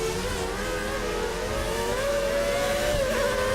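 A Formula 1 race car from the game Formula 1 2013 drives at full throttle through the Hungaroring with a steady high-pitched engine whine that climbs slightly in pitch, continuous and close.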